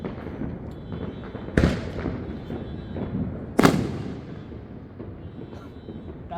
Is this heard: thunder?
no